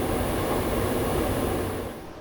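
Steady rumble and rush from inside a preserved 1970s Dutch Mat'64 train, set 904 of the Plan V type, running along the line with a constant broadband roar and no talk.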